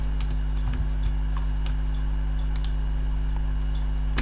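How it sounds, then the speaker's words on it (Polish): Rapid computer mouse clicks during a House Flipper 2 session, short sharp ticks scattered irregularly across the clip over a steady low electrical hum, close and fairly quiet, with no talking. "Ile klikania, ile będziecie mieli teraz słuchania mojej myszki?"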